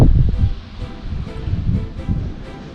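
Strong wind buffets the microphone outdoors in uneven, rumbling gusts that rise and fall with no voices over it.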